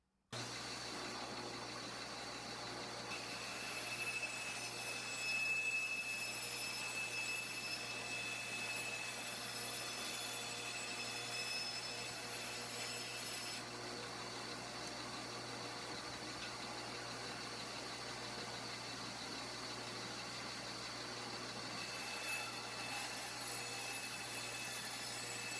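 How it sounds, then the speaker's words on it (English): Table saw trimming wooden boards by an eighth of an inch for Langstroth medium beehive frames; a steady, fairly loud whirring drone runs throughout with no talk, swelling slightly as the cut is made. "I've set this up 1/8 of an inch away from the blade so that we can cut those"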